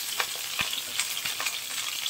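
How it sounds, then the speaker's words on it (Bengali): Dried fish fritters made with bottle gourd leaves frying gently on low heat, a close, even sizzle with small popping crackles throughout. "খুব আস্তে আস্তে ভাজতে হবে।"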